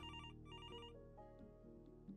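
A telephone rings in the indie walking-sim game I'll Remember, with two clear electronic ring bursts followed by a quieter tonal musical background.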